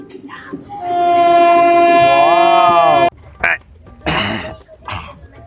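A passenger train horn blares loudly for about two seconds with a falling pitch at the end, followed by bursts of rumbling rail noise and brief voices.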